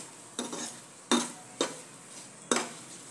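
Bitter gourd pieces sautéed with spices in a pan for a crispy karela fry, heard as four distinct scraping stirs of a utensil against the pan at uneven intervals over a faint sizzle, with no talking.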